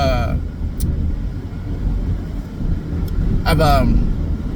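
A car cruises along a road, steady low rumble and wind throughout, with a brief whoosh as a truck slips past near the end; someone talks over it at the start and briefly again.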